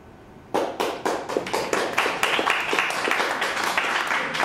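A small audience at a 2008 candidates forum claps after a candidate's response: scattered, uneven handclaps from a few people, moderately close, beginning abruptly and continuing steadily for several seconds.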